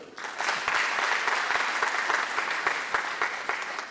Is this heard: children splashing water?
no